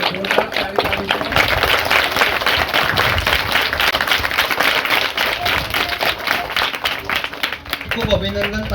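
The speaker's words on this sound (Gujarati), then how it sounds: "જોરદાર તાળી પાડીશું." An audience claps steadily at a farewell ceremony, dense and fairly loud applause that continues throughout, with a few voices mixed in near the end.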